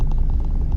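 A car engine held at a steady rev during a driving lesson, a continuous low rumble close by with no voices over it.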